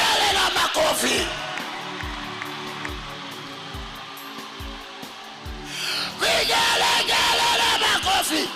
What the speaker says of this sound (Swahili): Vigelegele na makofi.